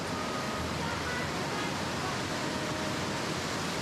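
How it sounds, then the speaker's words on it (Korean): Water cascades steadily down the terraced lakes of Plitvice in Croatia, a dense, continuous roar of falling water with no pauses, close and loud throughout. "우렁찬 물소리가 마음 가득 생동감을 불어넣는다."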